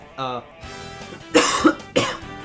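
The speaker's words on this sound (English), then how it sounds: "Sorry, a little bit of cough." A short burst of speech, then a couple of sharp, close coughs with a brief throat-clearing quality, loud against a quiet room.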